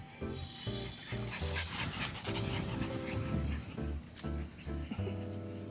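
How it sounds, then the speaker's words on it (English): Puppies panting and snuffling at a dog cafe in Korea, quick breathy rhythmic huffs with rustling and faint whimpers, close and fairly quiet, with brief voices in the background. "Puppies!"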